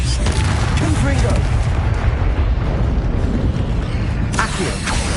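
A Confringo spell explodes in a Hogwarts video game as a loud, sustained booming blast with rumbling debris, then a second burst near the end.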